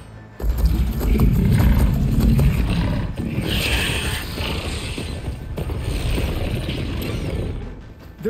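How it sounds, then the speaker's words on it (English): Mechanical creatures ridden into battle in Horizon Forbidden West give off loud, continuous clanking, creaking and ratcheting with growl-like roars, a dense metallic din that swells early and then holds steady. "They're riding machines!"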